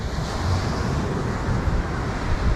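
Ocean surf washing onto a beach where fish and breadfruit are being roasted, a steady broadband roar of waves and wind, fairly loud and continuous with no voices.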